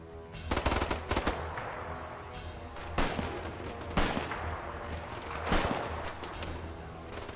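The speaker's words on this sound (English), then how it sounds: "4th Platoon puts down suppressive fire with their machine guns and quickly springs into the attack." Machine guns laying down suppressive fire in a World War II style war video game battle, loud sustained bursts and rattling volleys with sharp gunshots repeating across the clip, no talking.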